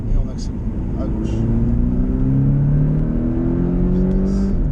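Porsche Cayman 718T accelerating hard on a race circuit, its engine note climbing steadily in pitch through the gear, loud and close, while an instructor speaks over it.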